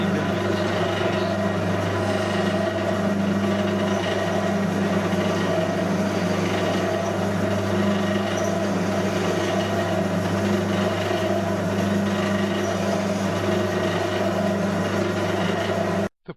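A machine tool hums steadily while countersinking a 9 mm bolt hole in a metal plate for router roller guides. The whine stays constant and alone until it cuts off abruptly at the end.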